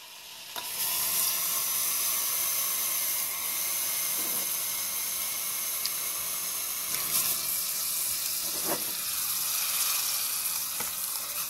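Liquid nitrogen boils violently in a small cup after warm water is poured in, giving a continuous sizzling, frothy hiss with scattered crackles and pops at a steady, moderate level.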